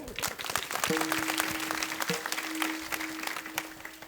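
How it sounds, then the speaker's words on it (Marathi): An audience at a kirtan claps in a burst of applause, many hands clapping together, with a sustained tone running through. "एकदा जरा जोराने टाळी वाजवा ह्यांच्यासाठी."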